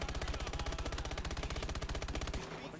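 Rapid automatic gunfire into the ground in Call of Duty: Advanced Warfare, a loud, fast, evenly spaced burst of shots running for over two seconds before cutting off into a fading tail.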